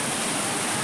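Rain in the monsoon season, a dense, even hiss of falling drops, steady and close with no pauses and no voices.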